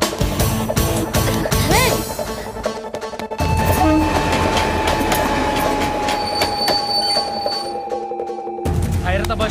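A local train runs in a Telugu movie scene, with loud, steady rumbling, rattling carriages and sustained wheel squeal throughout. There is a brief dip in the noise partway through.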